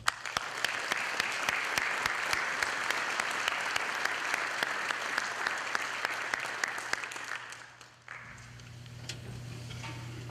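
Steady audience applause honouring veterans at a city Veterans Day ceremony in Lynn, a dense wash of clapping with sharp individual claps standing out, fading out abruptly near the end and leaving a low hum.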